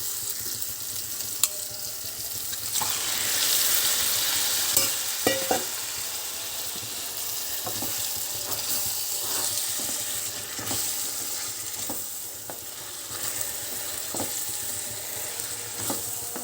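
A spiced mixture with turmeric simmers and sizzles in a pot while being stirred, a steady hiss with repeated spoon scrapes and knocks against the pot throughout.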